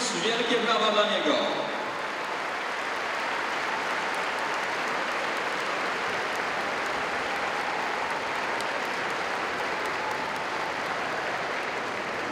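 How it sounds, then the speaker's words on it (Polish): Audience applause for an athlete on stage at a 2017 Christmas charity show, with a voice heard briefly at the start before steady, full clapping from a large crowd carries on for about ten seconds. "Wielkie brawa dla niego."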